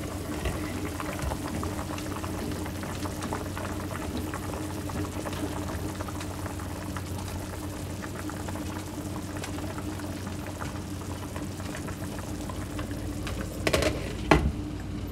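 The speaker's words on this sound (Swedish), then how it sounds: "Så låter vi det koka i en timme. På svag värme med lock på." Beetroot borscht simmers under a lid in a pot, a steady low bubbling hum that continues evenly throughout, with a brief clatter near the end.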